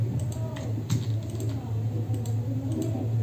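A computer mouse clicks while tracing a design in Wilcom embroidery digitizing software, a scattering of light, close taps and clicks over a low steady hum of the computer.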